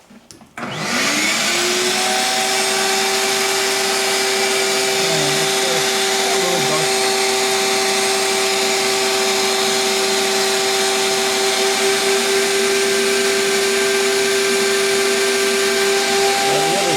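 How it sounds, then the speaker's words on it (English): A vacuum cleaner starts with a rising whine and then runs steadily and loudly while an oil burner is cleaned. Faint knocks and scrapes sit under the drone, and nobody speaks. "Get the vacuum. You hold the vacuum, Michael."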